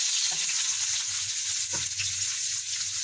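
Onion sautés in a pan for a simple home dish, giving a constant bright sizzle with a couple of soft stirring knocks and no voices.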